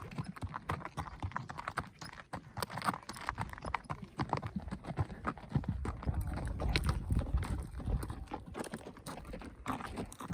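Hooves of a mustang from Wyoming clop in a steady walking rhythm over rocky ground, with close, irregular knocks and scrapes and a low background rumble. Nobody speaks.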